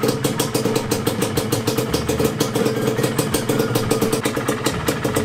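A Yamaha DT125 two-stroke engine idles during warm-up, a steady, rapid, rattly putter held close and loud with no letup from start to finish.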